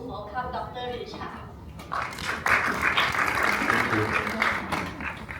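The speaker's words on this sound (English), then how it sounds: "Please join us in giving a warm round of applause to welcome Dr. Risha." A conference audience applauds to welcome a doctor to the stage, a broad wash of clapping building in after a few seconds with a voice speaking over the start.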